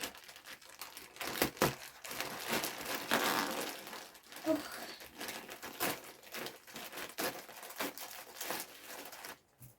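Packaging is crinkled and torn open in a string of rustling, crackling bursts up close, with a brief quiet pause near the end.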